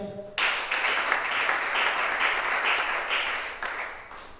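Congregation applauding together in church during a worship service, sustained dense clapping that starts abruptly and holds steady for several seconds.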